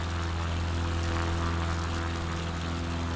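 A propeller floatplane engine, the Hangar Studios Scout in Microsoft Flight Simulator 2024, drones steadily and evenly throughout, a constant humming tone with no change in pitch or level.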